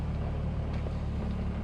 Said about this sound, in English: So the clutch does rattle some